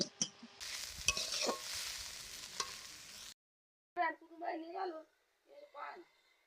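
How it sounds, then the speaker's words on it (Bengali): Chopped water spinach is tipped onto fried potatoes in a hot pan, bringing a bright crackling sizzle with a few scraping stirs for about three seconds, then someone talks over the quiet kitchen. "কলমি শাকগুলো আমি আলু ভাজার উপর দিয়ে দিচ্ছি।"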